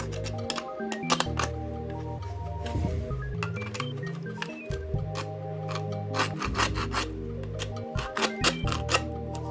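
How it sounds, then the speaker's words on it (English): Support material being scraped off a 3D-printed stackable hard-drive mount: continuous close rubbing and rasping strokes with squeaky, tonal scraping, steady throughout without talk. "Scrape off the remains of the support material"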